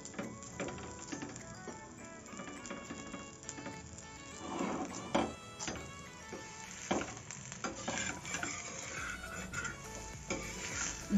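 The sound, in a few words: methi paratha pressed and roasted with oil on a pan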